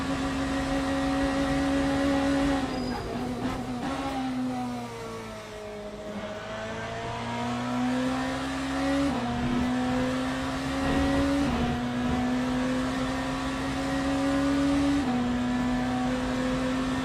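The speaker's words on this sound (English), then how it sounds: "I'm obviously relying on the engine brake as well with the fast downshifts" A race car engine in the Le Mans Ultimate racing game holds a loud, sustained high-pitched drone, with pitch dropping in several sharp steps as it downshifts before climbing again under throttle.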